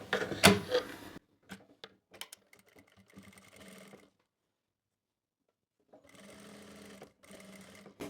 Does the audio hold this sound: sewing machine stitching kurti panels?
yes